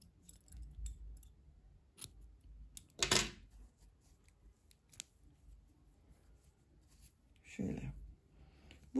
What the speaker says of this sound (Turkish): İpliği burada kesiyorum.